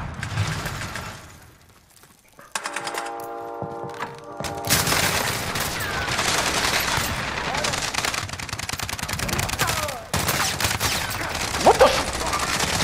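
Sustained bursts of automatic gunfire in the shooter Warzone crackle loud and close, broken by a brief lull with a mechanical whir before heavy firing resumes and continues to the end.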